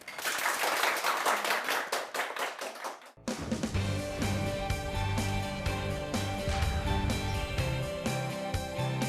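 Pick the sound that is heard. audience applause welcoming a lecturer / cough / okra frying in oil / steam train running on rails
audience applause welcoming a lecturer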